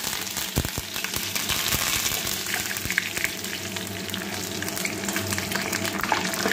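Curry leaves crackle and sizzle in hot oil with dried red chillies in a pan while making semolina upma, a steady, dense frying hiss that runs the whole time with no talking.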